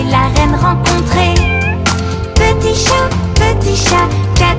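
Cat meows sound over the music of a French children's song, loud and up front, with the mewing set over a steady instrumental backing.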